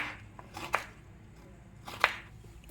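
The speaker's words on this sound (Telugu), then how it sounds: "వీటిని ఇలా పీల్ చేసుకున్న బీరకాయని మనం చిన్న చిన్న రౌండ్గా ముక్కలు చేసుకుందాం" A knife slices peeled ridge gourd into small rounds, two distinct crisp cuts landing on a board with soft handling sounds between them, close and quiet, with no talking.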